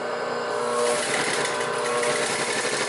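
A Singer 31-15 industrial sewing machine with a size 16 needle and regular thread stitches through three layers of marine vinyl, giving a steady close whirring motor hum with rapid needle chatter throughout.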